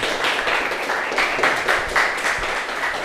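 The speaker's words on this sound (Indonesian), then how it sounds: "tepuk tangan buat kalian semuanya" Students in a classroom clap their hands together, a lively crowd of claps with some distinct sharper strikes standing out over a continuous patter, fairly close and steady throughout.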